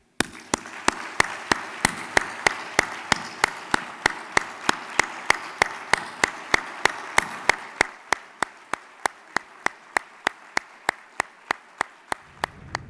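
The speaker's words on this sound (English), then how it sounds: "with this round of applause, Bob Steed, thank you" Audience at an authors luncheon applauding, a dense round of clapping that thins into slow, evenly spaced, loud single claps toward the end.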